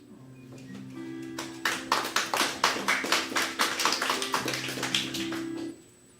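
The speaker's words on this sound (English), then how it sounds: "another round of applause for Alessandra Drigo" A small audience at a poetry reading claps: an even, moderately paced series of claps, fairly faint, over a low steady hum, then stops abruptly.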